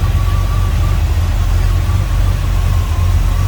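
A 1967 Chevrolet Impala SS engine idles with a steady, low rumble, smooth and continuous, with a faint higher whine running through it and no talking.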